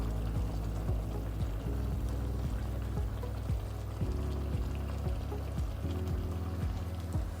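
Liquid comes to a boil in a pan holding seared meat pieces and chopped parsley, giving a steady bubbling and popping with many small irregular blips over a continuous low simmering hiss, fairly quiet and with no talk.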